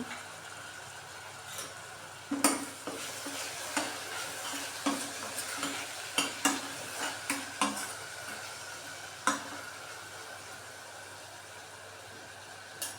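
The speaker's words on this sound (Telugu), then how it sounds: "ఇప్పుడు టమాటాలు వేస్తున్నాను" Tomatoes, one large one cut up, fry in a pan over a low steady sizzle, while a spoon scrapes and clacks against the pan in irregular sharp knocks every second or so.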